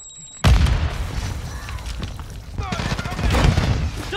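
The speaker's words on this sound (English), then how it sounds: "C4, get back!" A C4 charge detonates in a shooter game on Ashika Island with a sudden loud boom, followed by a dense rumble of gunfire and debris that continues under shouted voices.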